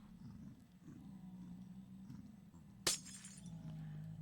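Glass block shattering in Minecraft, a single sharp crisp break near the end over a low rumbling game background with growling ambience, no talking.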